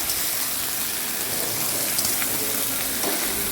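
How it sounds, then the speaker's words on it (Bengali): Onion, raw banana and potato fry in a pan for a rohu fish curry, giving a dense, constant hiss of sizzling oil close up with faint stirring, no voices. "কাঁচা কলার আলুটা আমি একটু কষিয়ে দিয়ে দিব"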